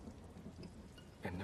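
Rain and thunder from Bramayugam, a Malayalam horror thriller, play as a faint, steady downpour with a low rumble swelling near the end.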